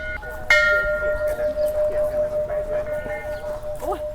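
Temple bell ringing at Wat Rong Khun, the White Temple in Chiang Rai, Thailand: a single clear strike with a long, steady sustained hum that lingers throughout, amid outdoor ambience and faint voices.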